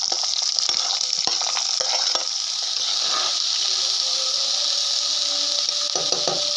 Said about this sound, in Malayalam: കപ്പളങ്ങ അഥവാ കപ്പയ്ക്ക അതുകൂടി ഇട്ട് കൊടുക്കാം